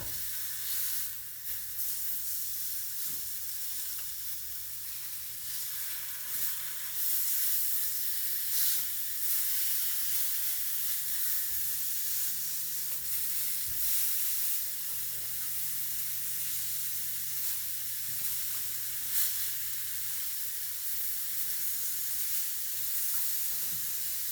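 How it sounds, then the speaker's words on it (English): Oxtail pieces sear steadily in a hot pan, a continuous close sizzle and hiss with faint scraping as the meat is turned over, no voices present. "So now I'm going to turn the meat over to the opposite side."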